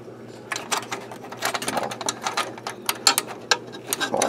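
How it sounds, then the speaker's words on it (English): Screws being removed from a Technics RS-1500 reel-to-reel tape deck during a bellows repair, heard as close, irregular ratcheting clicks and small metallic taps from a screwdriver. "Let me get the screws out."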